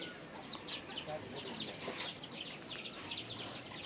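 Chickens in a village without electricity cluck in quick, repeated bursts. The calls are faint and sit over a low background hum.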